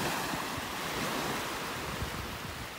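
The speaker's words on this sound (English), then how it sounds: "Give you a look at the water again." Ocean surf washes onto a beach in North Naples, Florida, a loud, steady broadband roar with wind buffeting the microphone throughout and no voices.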